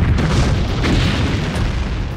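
A massive asteroid impact explosion, a deep, loud, rumbling boom that roars continuously with heavy low-end and a dense noisy wash throughout.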